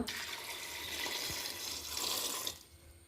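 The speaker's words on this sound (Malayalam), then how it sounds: "വെള്ളം ഒഴിക്കുക" Water pours in a steady rushing stream into a metal pressure cooker, then stops abruptly near the end.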